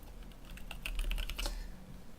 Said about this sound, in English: Excuse me for the glorious Zelio typing noises